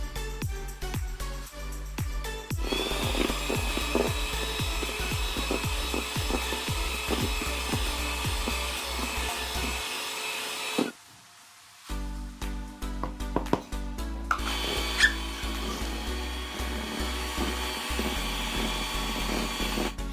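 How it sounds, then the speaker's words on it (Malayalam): An electric mixer beats eggs with powdered sugar for a strawberry cake batter, a steady close whir with scraping against the bowl that cuts out briefly midway and then resumes. "ബീറ്റ് ചെയ്ത് വെച്ചിരിക്കുന്ന മുട്ടയിലോട്ട് 1 കപ്പ് പൊടിച്ച പഞ്ചസാര ഒരു 2 ട്രിപ്പായിട്ടിട്ട് നമുക്ക് നല്ലോണം ഒന്ന് മിക്സ് ചെയ്തെടുക്കാം"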